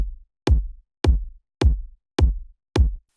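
Two layered kick drums strike together in a disco beat, five evenly spaced punchy thumps with deep booming tails, loud and alone.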